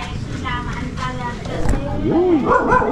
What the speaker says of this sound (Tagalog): May aso nga dito sa loob